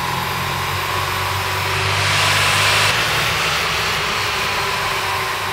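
A naturally aspirated car engine runs on a dyno, a loud, steady broadband roar with a low droning hum that swells slightly midway and holds without pause.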